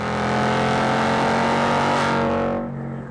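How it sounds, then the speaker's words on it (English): A Ford Mustang Bullitt V8 with an active valve performance exhaust holds a loud, steady rumbling drone close up, rising slightly in pitch before easing off into a quieter idle near the end, with no talking. "Elevating the Bullitt's sensory experience is an active valve performance exhaust."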